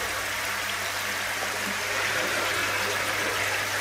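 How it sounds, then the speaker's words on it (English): Water pouring through a koi pond bacteria filter outlet, a continuous, moderately close rushing and trickling flow, even and unbroken throughout. "the water's going through the outlet, the bacteria filter"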